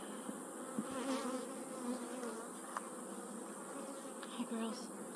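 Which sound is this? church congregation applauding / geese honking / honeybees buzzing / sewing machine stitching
honeybees buzzing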